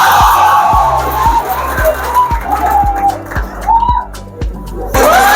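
At a Teacher's Day celebration, a crowd whoops and whistles in bursts, shrill tones sliding up over a steady, repeating low thump, loud and close throughout.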